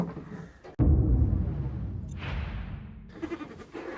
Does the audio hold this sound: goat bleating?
yes